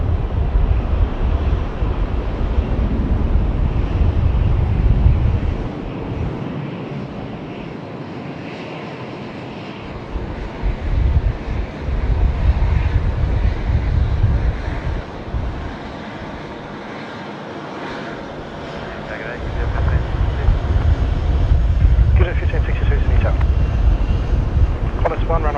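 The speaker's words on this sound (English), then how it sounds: "Qantas 1 almost cleared for takeoff." Qantas A380 airliner taking off at Sydney Airport, a broad, steady engine roar with low rumble and wind buffeting on the microphone, swelling and easing over time, with people talking faintly.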